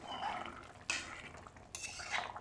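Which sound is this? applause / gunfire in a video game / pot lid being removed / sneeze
pot lid being removed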